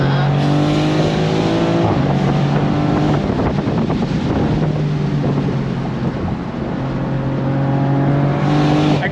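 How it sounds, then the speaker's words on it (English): A 2024 Maserati GranCabrio Trofeo convertible accelerating at full throttle, its engine loud and near, rising in pitch through gears with brief shift dips, mixed with strong wind rush over an open cabin. "We got to go on throttle one more time. If you're ready, I'm ready. On throttle, here we go."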